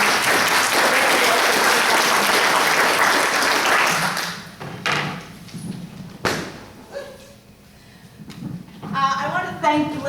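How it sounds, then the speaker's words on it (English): Enthusiastic audience applause for community center volunteers at a nonprofit awards event, a dense burst of clapping that ends after a few seconds, followed by scattered thumps and people talking. "a round of applause to all of our Seeds"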